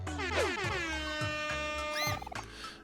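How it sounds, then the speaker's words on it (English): A loud, sustained air horn from the video game Omori blares for a couple of seconds, its pitch wavering, followed by brief cartoonish effects. "Use big air horn? Yes."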